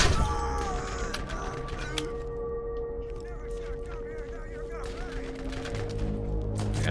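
Dense gunfire from the Borderlands video game, a steady stream of shots and battle noise running without a break under constant game music and effects.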